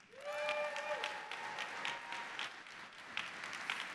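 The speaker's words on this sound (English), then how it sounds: "Round of applause again." A large conference audience applauds in a hall, broad sustained clapping with a brief tonal cheer near the start, continuing evenly for a few seconds without speech.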